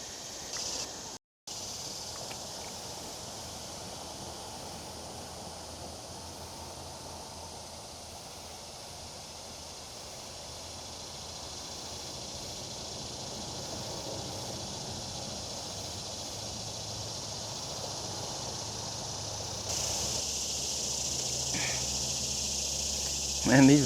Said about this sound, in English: Man, these bugs are loud.